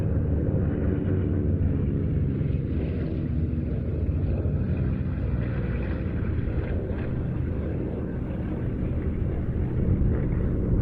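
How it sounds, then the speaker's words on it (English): Four piston-engined warbird fighters, including a Fury ISS and a P-47D Thunderbolt, fly a display at Duxford, their engines making a loud, continuous deep rumbling drone throughout. "the final display of the day brought together 4 of the most active home-based Warbirds"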